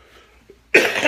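After a quiet moment, a single harsh cough bursts out close and loud, rasping briefly before fading.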